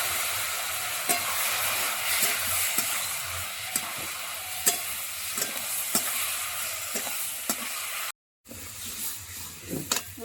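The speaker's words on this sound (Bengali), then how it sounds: "দিয়ে মশলাটা ভালো করে কষিয়ে নেব" Spice paste of ground spices, sugar and a little water frying and being stirred in a pan for a jackfruit curry with goat fat and liver, a steady sizzle with repeated scraping stirs and one brief silent gap.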